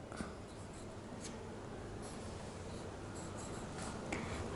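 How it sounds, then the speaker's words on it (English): Words being handwritten in a classroom setting, with soft continuous scratching and small taps of the writing tool against a faint background hiss; no one speaks. "Let's write it here"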